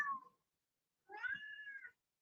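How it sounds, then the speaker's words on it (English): A domestic cat meows twice, a short cry followed after a pause by a longer, rising and drawn-out meow, fairly close and alone with no talk. "You can hear my cat."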